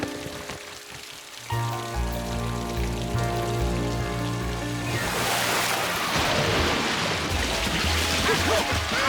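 Steady rain patters on a camping trailer, a dense continuous hiss that swells louder partway through, alongside faint musical tones.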